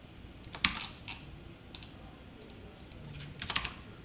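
Sparse keystrokes on a computer keyboard while writing C code, a couple of louder clicks near the start and end with quieter taps between, close and alone in a quiet room.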